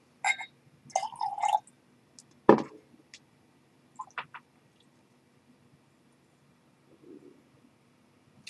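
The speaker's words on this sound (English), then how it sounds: "Let's see if adding any water does anything" Water added to a glass of Glenmorangie whisky: a few short, close splashy drips and pours separated by quiet gaps, with a faint knock and light handling noise.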